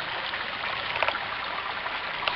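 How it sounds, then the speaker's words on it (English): A small stream beside a backpacking campsite flows with a constant close rushing babble, small splashes and trickles scattered through it. "It's a great little stream."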